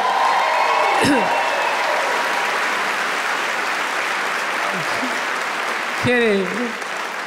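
A comedy-club audience applauds and cheers for the host at a stand-up special, giving sustained loud clapping that runs the whole length. Someone speaks and calls out over it.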